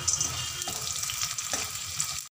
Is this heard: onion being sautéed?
yes